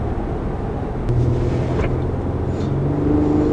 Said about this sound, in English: The engine makes a decent sound and it holds the revs up where I'd like it to hold the revs up